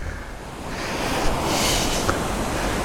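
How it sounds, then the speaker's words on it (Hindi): A swollen monsoon waterfall near Mussoorie rushes in a steady, broad roar that builds slightly, heard close with wind buffeting the microphone and no voices. "ये देखो झरना कितना प्यारा लग रहा है। भयंकर ही बह रहा है, ये बहुत ज़्यादा तेज बह रहा है।"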